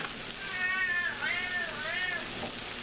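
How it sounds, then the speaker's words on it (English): A cat meows a few times in a home kitchen during cooking, two or three rising-and-falling meows close by over faint background hiss, with no talking. "and that's Dak the cat"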